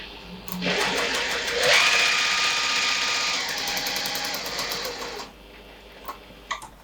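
Sewing machine stitching a tote bag: a loud, steady mechanical whir runs close by for roughly five seconds, then stops, followed by a few faint clicks and no talking.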